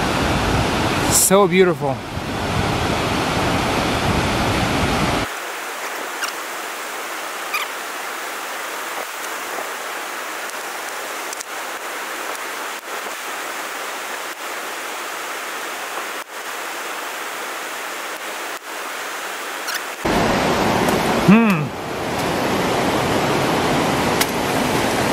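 A waterfall along Eagle Creek in Oregon roars as a steady, broad rush of falling water, loud and continuous, with a person briefly speaking over it near the start and end.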